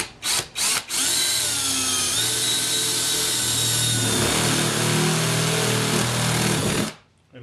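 A power drill bores holes through thick aluminum siding in a long, loud, steady whine with shifting pitch, preceded by a few short bursts of the motor starting and stopping, then cutting off abruptly at the end.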